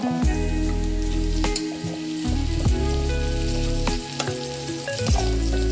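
Boiled kabuli chickpeas go into a hot, sizzling tempering, producing a loud, continuous fry with repeated scraping stirs and spoon clanks at regular intervals, close up and with no talking.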